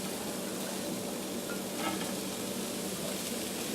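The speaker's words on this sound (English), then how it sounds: "I'm going to saute all that together." Chopped garlic, sliced onions and broccoli sauté together in a pan, giving a steady, even sizzle throughout with a brief stir noise near the middle; no talking.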